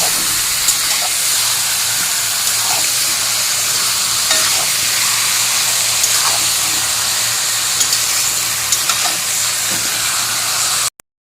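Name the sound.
meat being stirred and fried in a pan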